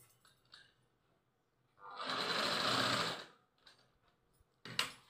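A sewing machine stitches a zero-size baby frock in a single steady run of about a second and a half, starting and stopping cleanly, with a few faint handling clicks before and after.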